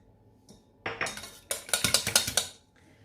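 Eggs, milk and vanilla whisked quickly in a bowl for a cake batter, giving a fast run of bright clinking strokes against the bowl with a brief pause partway, close and fairly loud, no voices.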